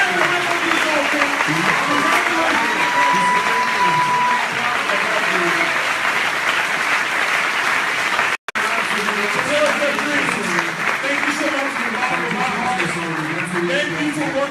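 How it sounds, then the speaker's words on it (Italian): A live audience at a network marketing event in Italy gives sustained, loud applause that fills the room for about fourteen seconds, with crowd voices mixed in and one very brief break near the middle. "Let's give him one more big round of applause."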